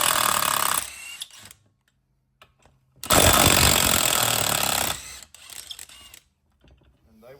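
Bursts of an impact or ratchet tool run loud and close as three bolts come off the secondary clutch of a CFMOTO U10 Pro side-by-side with a 10mm socket, two long bursts separated by quiet gaps and small clicks.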